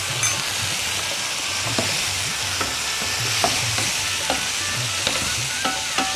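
Mutton frying in a pan as masala powder is stirred in, with a steady sizzle under a series of regular spoon scrapes and clinks against the pan.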